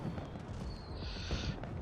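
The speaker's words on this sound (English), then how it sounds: "let's enjoy these fireworks to begin with" Fireworks going off in the video game Beyond A Steel Sky, a continuous muffled rumble of bursts and crackles at moderate distance, with a faint whistling tone over part of it.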